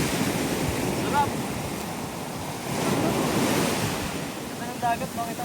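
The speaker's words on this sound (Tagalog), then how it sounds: "Ang dagat, makita mo yung dagat na yan?" Sea surf rushes and washes ashore on a beach in Pangasinan in broad roaring swells, mixed with strong wind buffeting the microphone; a faint voice briefly surfaces.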